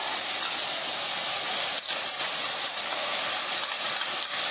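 Green chili paste hits a hot pan of frying garlic-ginger paste over high heat, giving a loud, steady, broadband hiss of sizzling that fills the whole moment with only slight dips.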